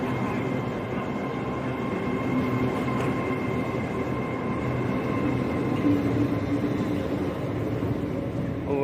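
A West Midlands Railway class 350 electric multiple unit arriving at a platform gives a loud, steady rumble with a faint electric whine that holds evenly throughout, and no voices are heard.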